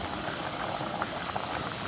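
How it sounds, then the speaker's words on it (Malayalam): Tapioca boiling in a pot gives a continuous dense hiss and bubbling roar, steady and fairly loud throughout with no voices. "കപ്പ തിളയ്ക്കുന്നുണ്ട്."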